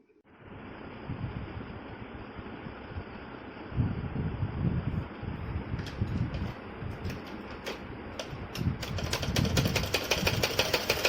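Sewing machine running steadily while stitching the side seam of a kurti, a continuous mechanical whir with a rhythmic low knocking throughout, with a few sharper clicks and handling noises toward the end.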